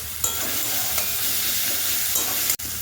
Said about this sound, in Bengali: এবার এর মধ্যে দিয়ে দিচ্ছি আমি আদা রসুনের পেস্ট